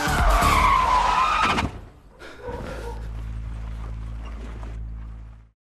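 A car in a movie chase scene skids hard with a loud, sharp tire squeal that cuts off abruptly, followed by a lower rumbling engine and road noise that fades away.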